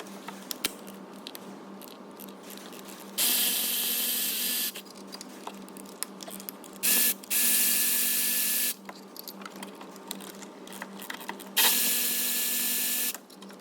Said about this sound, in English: Just got a 15mm socket again for the horizontal bolts